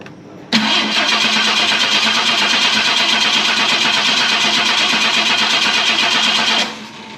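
A 1969 Ford Mustang engine cranks on the key in one steady, unbroken run of about six seconds, loud and close, then stops.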